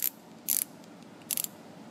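Ratchet clicking in three short bursts as it turns a plug on a Ford 7.3L Powerstroke engine during oil leak repair, close and crisp over a quiet background.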